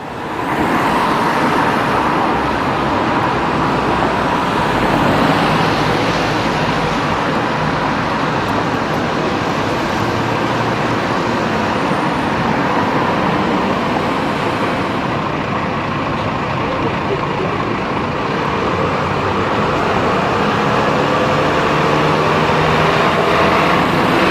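London bus and street traffic on Pall Mall: a continuous loud rumble of engines and road noise that holds steady from start to finish, with no clear talk.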